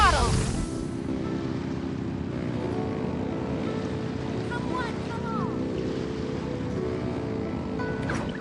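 A boat accelerating at full throttle in Genshin Impact, with a strong rush at the start settling into a steady engine drone and splashing water that carries through to the end.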